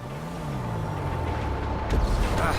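A truck in GTA Online rumbles with a steady, loud engine drone, then a sudden hiss of air brakes near the end, with no talk over it.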